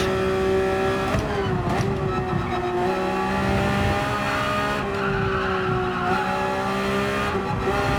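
A race car engine in Gran Turismo 7 drones loudly in a high gear climbing a hill, pitch dipping and rising as it shifts, with a brief tire squeal and no talk.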